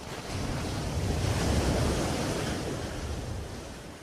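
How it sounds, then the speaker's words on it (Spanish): Strong cold-front wind and waves at sea roar in a broad, continuous rush, with surf surging slightly louder in the middle before easing, and no voices present. "Los frentes fríos traen vientos de fuerza extrema al nivel del mar."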